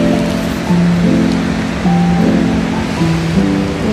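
Steady roaring rush of falling water from the Baatara Gorge waterfall in North Lebanon, loud and continuous, with a droning tonal hum layered underneath throughout.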